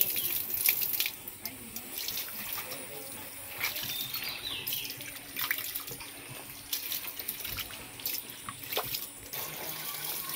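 Water runs from a tap into a village kitchen vessel while rice is being readied, a steady trickling splash that continues throughout, with people talking intermittently over it.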